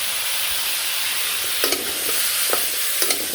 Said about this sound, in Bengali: সব দিয়ে ভালো করে কষাই।